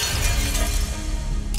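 A toy dump truck made of crisps breaks apart with a continuous crunchy, shattering crackle, close and loud, lasting over a second.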